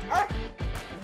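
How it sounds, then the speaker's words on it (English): Police dog giving a couple of short, sharp barks and yips, close and fairly loud, with no talking over it. "Police dog."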